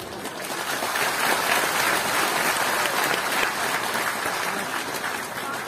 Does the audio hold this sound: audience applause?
yes